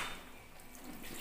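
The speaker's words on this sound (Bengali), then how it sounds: "এবার কন্টেনার ধোয়া জলটা দিয়ে দেবো" Rinse water from a washed container poured into a pot of potatoes being boiled for a chicken curry, a soft steady splashing stream that is faint and continuous throughout.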